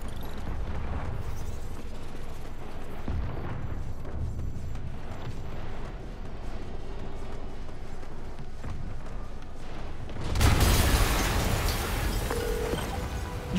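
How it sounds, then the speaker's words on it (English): Quiet game ambience gives way to a sudden loud explosion burst near the end in Marvel's Spider-Man on PS4, the broadband blast hitting abruptly and lingering briefly. "an explosion just"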